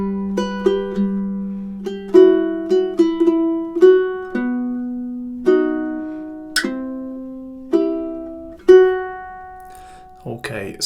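A ukulele plucks measures 9 and 10 of a song slowly and clearly, about a dozen distinct notes ringing out and decaying one after another, played alone with no talking.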